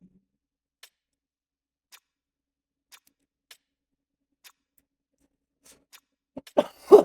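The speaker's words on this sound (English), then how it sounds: "Sorry for the coughing." Near silence with faint periodic ticks, then a few short, close coughs burst out near the end.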